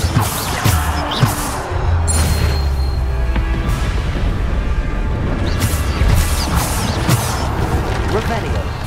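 Spell impacts crash and boom in a Hogwarts Legacy battle, with a Descendo slam among repeated heavy thuds and magical bursts, loud and close, while a voice calls out spell names throughout.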